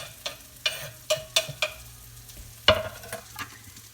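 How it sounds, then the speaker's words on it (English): Mushrooms sautéing in a pan with garlic and onions as a utensil stirs them, giving a series of scraping, clattering stirs over a low steady sizzle, close and moderately loud, with no voices. "add the aromatics, or the garlic and the onions, to the mushrooms that are cooking over here"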